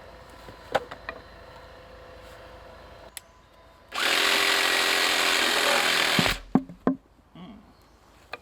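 A reciprocating saw cuts through oak frame timber for a barn build in one loud, steady burst of about two and a half seconds, with scattered knocks and handling clatter before and after.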